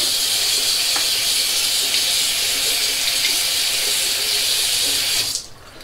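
Tap water runs steadily and loudly into a sink to wet a razor for shaving, a close, continuous hiss that stops abruptly near the end.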